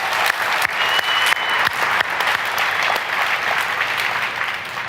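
Audience applause at a business conference, a full steady wash of many hands clapping with a few sharp individual claps standing out, holding at a strong level throughout.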